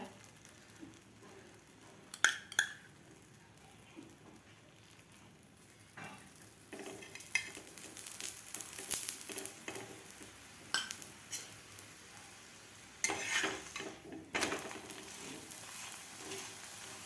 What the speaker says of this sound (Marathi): हा सुद्धा आपल्याला व्यवस्थित दोन्ही साईडकडून पराठा भाजून घ्यायचा आहे